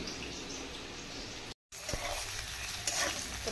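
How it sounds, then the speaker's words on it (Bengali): Potatoes frying in a pan ahead of a meat curry, a steady close sizzle broken by a short silent gap, then continuing with small crackles and pops. "এখানে বসিয়ে দিয়েছি আলু ভাজতে মাংসের জন্য"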